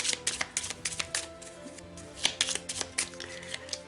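A deck of tarot cards is cut and handled close by, with quick, papery card flicks and soft slaps in uneven bursts against a quiet background.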